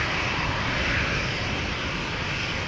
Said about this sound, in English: Ryanair going to Dublin. It is a 737-800, not an A380.